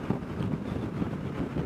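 Cold wind gusts across open desert near Tucson in a steady low rumble, buffeting the microphone without a break and with no voice over it.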